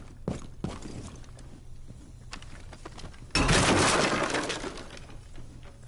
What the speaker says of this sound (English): Throw one above the bulletproof glass to eliminate the...